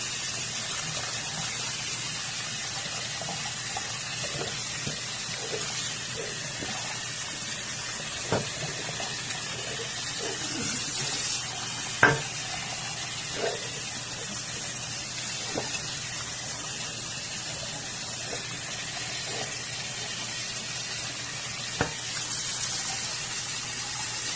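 A scrub brush works a bottle from a creekbank under a running sink tap. A steady hiss of water carries occasional sharp scraping strokes.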